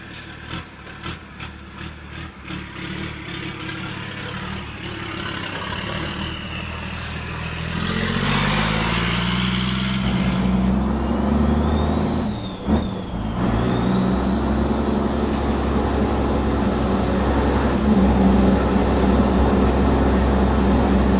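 Dave Jenkins' race truck drives up the runway at Elvington, its engine idling and then revving up into a loud, rising roar with a climbing whine, heard from inside the cab with no talk.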